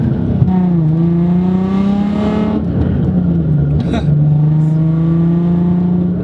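A Rocket Bunny Nissan 350Z engine revs loudly from inside the car, rising and falling through several pulls with a strong, close exhaust drone, while someone talks over it.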